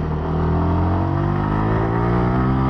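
A 2023 Yamaha R125 sport motorcycle revs hard while being ridden, its engine a steady, loud, close-up drone that holds one high pitch throughout, with no voices.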